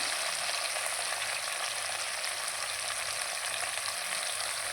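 Vegetable kurma mixture being stirred in a hot pan, giving a continuous even frying sizzle at moderate level, close by with no talk.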